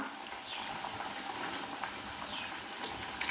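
Mango egg curry simmers in a pan, a steady, close bubbling and hissing boil that carries on unbroken with faint pops and no voices.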